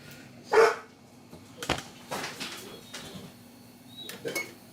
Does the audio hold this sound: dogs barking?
yes